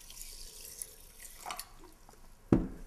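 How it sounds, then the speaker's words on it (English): Water is poured over soaked seeds to rinse them, a soft trickle building to a short splash at the end, quiet and close with no talking. "Again, we just pour some water over like this."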